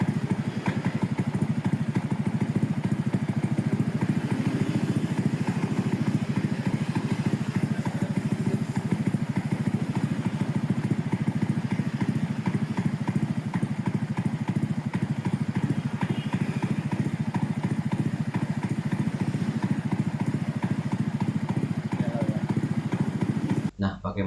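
A Suzuki GSX 150 motorcycle engine set to a rumble idle throbs steadily and loudly up close, with a low, uneven pulsing beat that never lets up.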